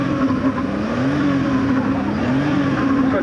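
A Porsche race car sits at the start line of the Brighton Speed Trials in 1991, its engine a loud, steady, close drone that holds a continuous pitch with slight wavering for the whole stretch.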